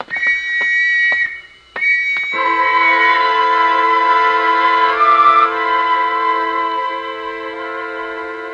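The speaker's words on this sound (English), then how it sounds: "And the whistles and the bells all around." Whistles and bells in a 1950s–60s radio mystery drama, a series of shrill tonal whistle blasts followed by a sustained, layered ringing chord that slowly fades, loud and without speech.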